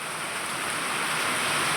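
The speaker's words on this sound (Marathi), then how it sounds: "खूप पाऊस चालू आहे मित्रांनो" A downpour of heavy rain roars continuously and loudly nearby, an even, unbroken wash of falling water with no one talking.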